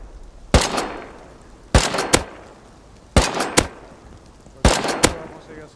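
A tank and rocket launcher firing in Rust: four heavy, booming blasts spaced about a second and a half apart, each with a sharp double crack and a rolling decay, loud and close.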